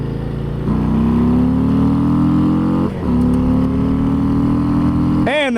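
A 2022 Harley-Davidson Low Rider ST motorcycle accelerates hard from 40 to 80, its engine note climbing steadily through a gear change with a brief dip, loud and close, then a sharp rev at the end.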